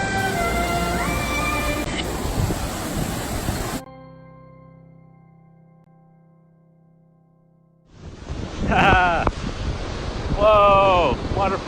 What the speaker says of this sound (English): Whoa! Waterfall on a bridge!